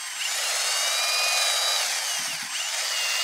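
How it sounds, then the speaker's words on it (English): A high-pitched rotary tool whines steadily while scrubbing corrosion off the brake caliper piston of a 2012-2015 VW Passat TDI, one continuous close grinding tone with a few brief low knocks near the end. "I noticed there's a little corrosion on the caliper, so I just wanna clean it up. Clean the piston up a little bit before we push it back."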